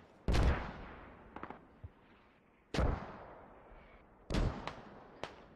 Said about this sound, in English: The mortars are hitting a bit to the left.